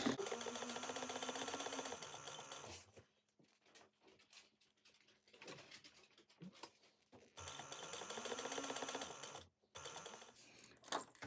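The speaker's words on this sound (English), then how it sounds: "And sew up the other side." Sewing machine stitching the side seam of a crossbody bag, with two close bursts of rapid mechanical whirring separated by quieter handling and shuffling, and no talking.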